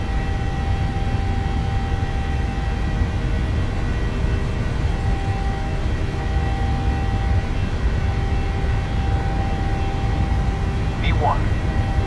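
Airliner engines at takeoff power in Microsoft Flight Simulator, a steady loud broadband roar with a constant hum throughout, continuous and close, with brief rising tonal chirps near the end.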